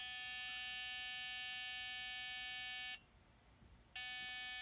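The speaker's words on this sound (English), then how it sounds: "And then it stops and it just beeps." A steady, piercing electronic beep tone from a faulty DaVinci Mini 3D printer sounds continuously, cuts out for about a second, then resumes over a low background hum.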